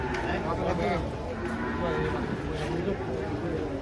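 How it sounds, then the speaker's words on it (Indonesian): Large sacrificial qurban cattle low while being unloaded from a truck, deep moos rising under steady nearby chatter from the handlers. "Sapi kurban raksasa"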